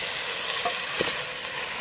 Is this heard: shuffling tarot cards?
no